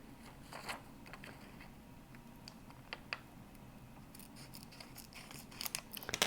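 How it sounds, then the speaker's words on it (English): Small scissors snip out tiny points of a mask for a silver metal clay pendant, a series of quiet, crisp, irregular clicks and snips close up, growing busier toward the end. "I can get in with the little scissors and I can cut out these little points."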